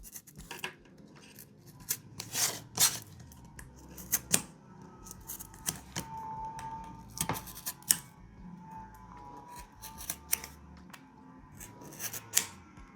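A blade cuts foam core board for a 1/8 inch scale architectural study model, giving quiet, irregular crisp snips and scrapes spread over several seconds, close up with no talking.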